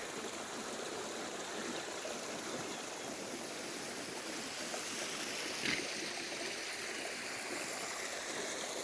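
Steady, continuous rush of water moving through an irrigation canal fed by a kahriz (underground channel), with sand being cleared; even, moderately loud flow throughout with one brief knock near the end.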